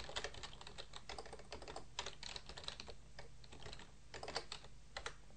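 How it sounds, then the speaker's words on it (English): Keys clatter on a computer keyboard in quick, uneven bursts of close taps, quiet and alone with no voices. "Oh, I can't type."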